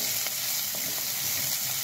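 Green chilli and ginger sauté in hot oil, a steady close crackling sizzle with light stirring scrapes throughout.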